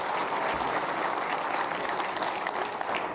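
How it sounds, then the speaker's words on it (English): An audience at an outdoor nights dinner event applauds the cooks, a continuous dense wash of clapping from many hands, steady and even throughout. "let's give those cooks a big round of applause for all that food they did tonight"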